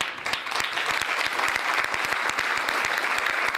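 Dense, steady applause from a conference audience at a church gathering in Cape Town, many hands clapping together loudly and continuously throughout.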